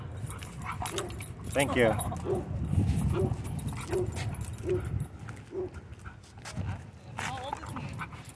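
At a dog park, a German shorthaired pointer lets out several short yips and whimpers amid outdoor bustle while people talk nearby.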